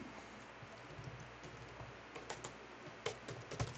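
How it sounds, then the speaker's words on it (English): Typing on a German computer keyboard, quick irregular key clicks up close, with a few louder taps near the end and no talk. "To break out the German keyboard."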